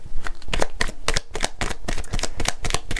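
Tarot cards are shuffled and drawn by hand, a rapid run of crisp riffling slaps and flicks, close and clear, with no talk over them.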